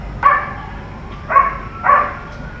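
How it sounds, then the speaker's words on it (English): Dogs bark in the distance outside during a power outage with sirens around, three spaced muffled barks over a low quiet background. "The dogs are barking like crazy."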